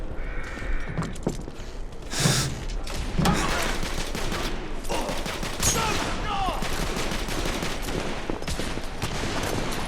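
Dense video-game gunfire from The Order: 1886, a wartime-style skirmish with rapid bursts and volleys that fire nearly nonstop at close to middle distance. Shouted voices break in over the shooting.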